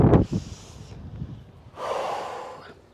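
Deep breathing after an exercise set, starting with a sharp intake, then a snorting exhale, a quiet pause and a long, audible breath out, close to the mic.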